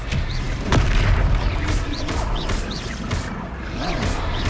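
In Hogwarts Legacy, a loud Expelliarmus spell effect erupts in a dense, rumbling magical blast with crackling bursts, continuing without a break through the short stretch.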